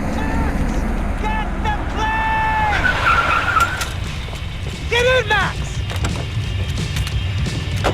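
A car in Max Payne 3 drives hard with loud tire squeals and skids sliding in pitch, engine noise underneath, clashing game sounds, and a voice briefly shouting amid the chaos.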